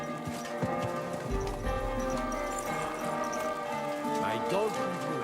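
Horse hooves clip-clop steadily in Kingdom Come: Deliverance 2, layered over a melodic game music score with in-game voices speaking.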